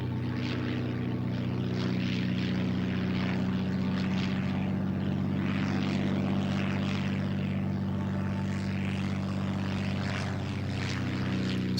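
A vintage propeller training aircraft with a plywood-covered fuselage drones steadily and loudly at an air show, its engine hum holding a constant low pitch with a rough, buzzing texture.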